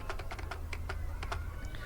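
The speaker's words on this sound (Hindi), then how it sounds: "आप सिंपल सा कीबोर्ड से बी प्रेस कीजिएगा।" Someone types on a computer keyboard while working in Tally ERP 9 accounting software, a quick burst of close, crisp key clicks in an uneven rhythm over a low steady hum.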